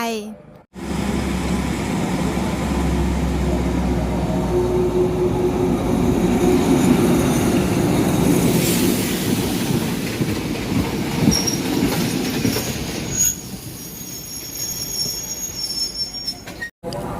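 A train carrying number 372 rolls through a platform beside a community in Thailand, its wheels squealing loud and continuously over a steady rumble and rail clatter, with faint speech from the surroundings.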